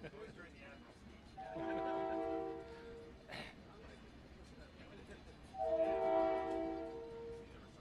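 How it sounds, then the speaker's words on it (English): A long freight train passes through Groton, sounding two loud, sustained multi-tone horn blasts a few seconds apart over a low rumble. "I'm going to pause while this train conducts a flyby"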